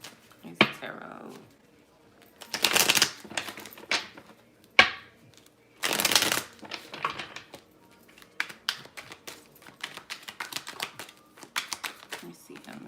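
A deck of tarot cards shuffled by hand, coming in several sharp riffling bursts with pauses between them, up close, while a person talks in between.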